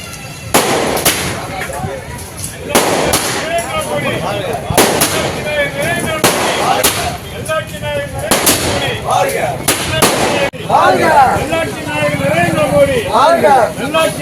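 Firecrackers set off at a celebration for the Indian Prime Minister's birthday outside a temple in Mayiladuthurai, a run of loud, sharp cracks and bangs amid crowd babble and chanting voices.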